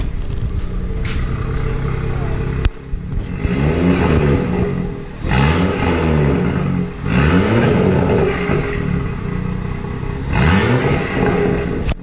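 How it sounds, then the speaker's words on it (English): A BMW F30 340i engine with an upgraded hybrid turbo idles close by and revs to about 2,000 rpm several times, each burst of throttle climbing sharply then falling back to a rough, clattering idle. "give it like a 2K rev or something, like something small."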